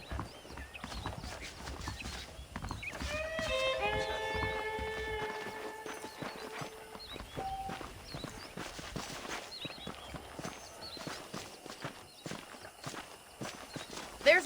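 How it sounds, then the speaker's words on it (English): Saddled horses clip-clopping in the Red Dead Redemption video game, a steady run of hoofbeats beneath a brief tonal whinny-like call and background game sound, with a voice talking at times. "The horses are saddled up over here."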